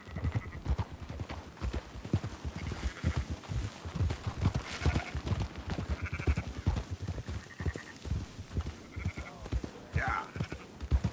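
Horse hooves clop continuously while scattered sheep bleat repeatedly in short bursts during a roundup in the video game Red Dead Redemption 2, a busy mix of livestock sounds moving around nearby.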